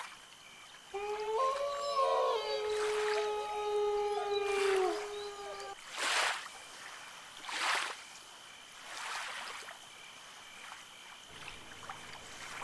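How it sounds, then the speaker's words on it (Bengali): A rowing boat moves through water, with soft oar splashes coming roughly every one and a half seconds against a quiet background, after a long wavering howl-like tone at the start. "আমি উঠতেই নৌকা ছল ছল শব্দ করে চলতে লাগলো"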